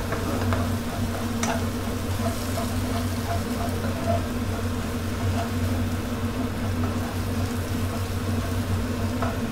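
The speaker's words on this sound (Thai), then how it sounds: "เวลาเราผัดกะเพราพวกผัดกะเพราปลาหมึกหรือว่ากะเพราอย่างอื่นนะเราใช้ไฟแรงเลยนะครับ" Continuous busy cooking noise with a steady low rumble, hissing and scattered clinks as squid and holy basil are stir-fried in a hot wok over a strong flame.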